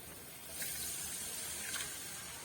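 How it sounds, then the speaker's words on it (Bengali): Water is poured into a pan of fish curry with oil-separated masala, a short, soft gushing splash with two brief swells, heard faintly and alone. "এখন আমি দিয়ে দেবো জল"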